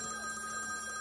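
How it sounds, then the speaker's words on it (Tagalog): A telephone rings steadily for about a second, a continuous electronic bell tone, fairly faint and alone. "Nagre-ring. Alam mo, telepono."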